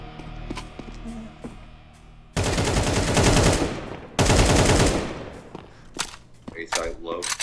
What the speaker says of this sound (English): You're getting shot from behind.